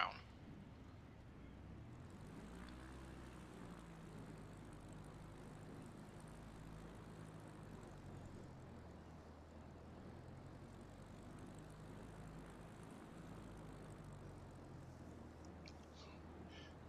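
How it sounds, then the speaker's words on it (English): A propeller-driven bush plane taxiing on the ground at a small Alaska airfield, its engine a steady low droning hum with slight pitch shifts, fairly quiet and continuous throughout. "It's hard to control this plane on the ground."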